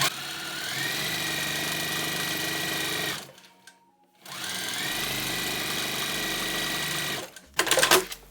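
A sewing machine top stitching a bag runs in two long, even bursts separated by a short pause, ending with a few sharp clicks and rattles.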